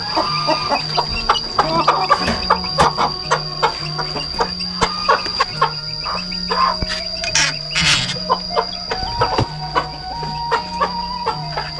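Bantam chickens in a quiet Sundanese village in Tasikmalaya in the morning, clucking close by in repeated short calls with steady crickets and insects chirring behind them.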